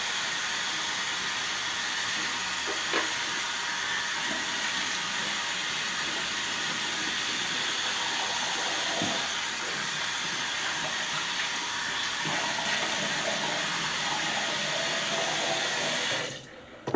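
Water runs steadily from a sink tap while shave lather is rinsed off a face, a close, even hiss with faint splashes that continues for most of the time before cutting off abruptly near the end.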